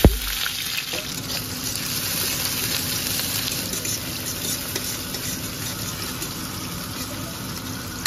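Onion sizzling in hot oil in a wok, with whole cumin and bay leaf, while cooking a duck curry. The steady close frying hiss holds evenly throughout, with no talking.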